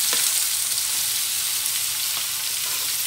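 Bitter gourd pieces drop into hot oil already holding mustard seeds and four dried chilies, giving a loud, even, continuous sizzle in a pan with no talking.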